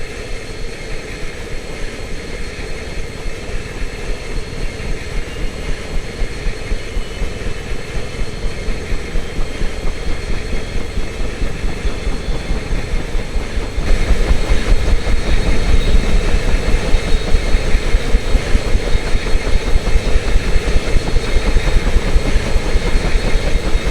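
A UH-1H helicopter turbine spools up during startup in a flight simulator game: a loud, steady whine over a fast rhythmic pulsing beat that grows louder and heavier about halfway through, with no talk.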